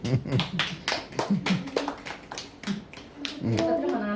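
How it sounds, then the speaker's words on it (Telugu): A few people clap in short irregular bursts of sharp, close hand claps, with voices talking around them. "చప్పట్లు కొట్టు"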